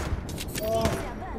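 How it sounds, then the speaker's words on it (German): Apex Legends gunfire rattles as a short, loud, continuous burst with booming low end, while a voice talks over it. "Auf mich wurde irgendwo geschossen oder so."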